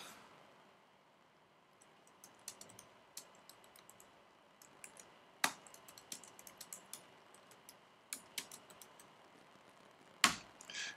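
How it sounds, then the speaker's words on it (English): Someone types on a computer keyboard in irregular runs of close, crisp key clicks, with a few sharper heavier strikes standing out against a quiet room. "Hey, AJ, what are you typing?"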